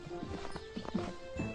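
Hooves of a magic winged horse clip-clop in a soft, uneven patter at moderate distance, a few quiet steps over a low background hum.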